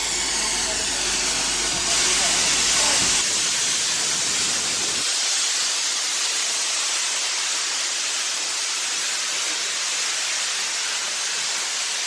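Loud, continuous hiss of escaping steam with a rumbling low chug early on, fading to a steady roaring hiss from a nearby steam locomotive.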